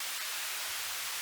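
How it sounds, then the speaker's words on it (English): Steady, unbroken pink noise hiss at -18 dB, ungated, flat and constant like radio static, playing alone at a moderate level. "I'm generating pink noise at minus 18 dB."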